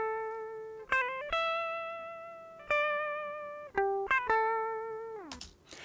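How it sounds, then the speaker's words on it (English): An unamplified electric guitar played dry plays clean, thin plucked notes and short phrases with gaps between them, ringing moderately loud and close with no effects, and ends on a bend or slide. "this just represents the dry waveform of the guitar"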